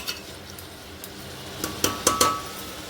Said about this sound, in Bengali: এবার আমি প্রেশার কুকারে মুখটা লাগিয়ে নিচ্ছি